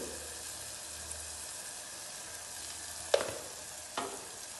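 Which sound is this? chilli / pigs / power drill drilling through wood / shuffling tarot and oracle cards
chilli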